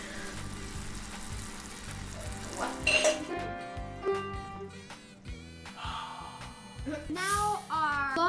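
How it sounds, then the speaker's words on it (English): Sugar syrup for scorpion lollipops simmers in a pot with a soft bubbling sizzle under light clinks of utensils and pans, while people talk over background music. "So this is almost boiling. It's at a simmer right now"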